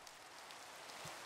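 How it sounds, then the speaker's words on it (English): Steady soft hiss of rain falling in the video game Minecraft, even and continuous with no other sounds on top, fairly quiet throughout. "Oh, it's raining."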